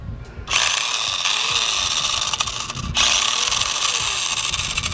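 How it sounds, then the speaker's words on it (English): Continuous buzzing, ratcheting mechanical whir from a Rui Chuang QY1802A RC buggy with grinding gears, rough grinding edge, loud and close, briefly dropping then surging again. "I think there are some gears grinding there."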